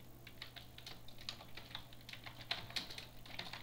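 Typing on a computer keyboard, a quick run of light, close key clicks in an irregular rhythm, fairly faint and steady over a low background hum.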